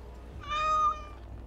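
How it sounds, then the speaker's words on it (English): A single clear, close cat meow in the video game Dragon Age Awakening, a short tonal cry rising and falling over faint background hum. "Let's take the cat with us."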